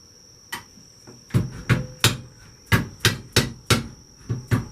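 A hammer taps a bar rail back into place, about ten sharp metallic strikes in an uneven rhythm, close and loud with no talk.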